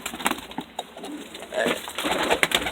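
Birmingham Roller pigeons beside a handler, with a crested, muff-legged bird flying close past; soft cooing and brief wing flutter sound near and fairly faint, under a steady background hiss.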